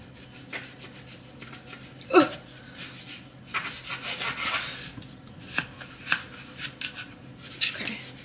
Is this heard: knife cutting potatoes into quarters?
yes